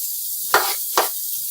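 Chopped onion dropped into a hot buttered pan, giving two sharp sizzling bursts close up that fade quickly between them.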